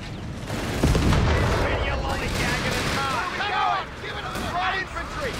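Anti-tank gunfire from a 2-pounder in Company of Heroes 3, a heavy boom near the start and then scattered battle noise with crackling shots and bursts through a busy mix.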